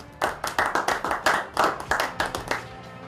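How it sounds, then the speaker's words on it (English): Studio audience clapping for two young contestants on a pitch show, a short burst of distinct, rhythmic hand claps, fairly close and uneven, fading after a few seconds. "a round of applause for the both."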